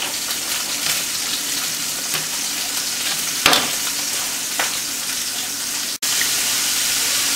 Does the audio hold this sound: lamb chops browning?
yes